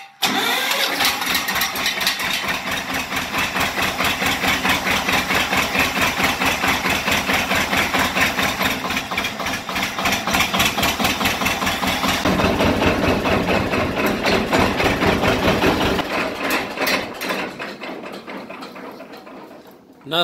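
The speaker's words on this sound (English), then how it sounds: "Nothing starts better than a John Deere tractor with the same boring stroke as the D9 Cat." A John Deere tractor diesel engine runs at a loud, steady idle close by, its rapid rhythmic chugging unbroken for most of the stretch before tapering off near the end.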